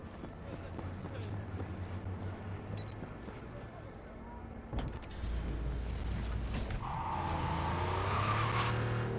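A Porsche driving in the video game Cyberpunk 2077, with a steady engine drone that swells and rises in pitch later on, mixed with skids and road noise while a voice talks over it.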